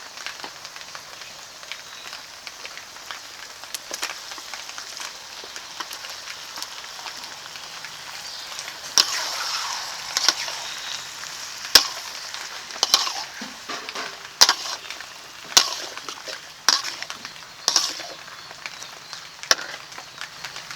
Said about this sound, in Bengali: মাংসটাকে মশলার সঙ্গে খুব সুন্দর করে কষিয়ে নেব